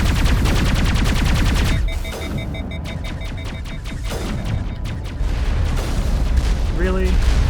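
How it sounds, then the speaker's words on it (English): Missiles fire in Mass Effect amid dense combat: repeated booming blasts and rapid gunfire over a heavy rumbling bed, loud and continuous, with a rising electronic tone near the end. "Stop shooting missiles!"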